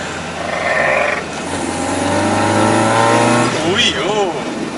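A Fiat 127 Abarth's engine accelerates under load, a steady rising drone that swells and then shifts pitch near the end, with a person talking over it.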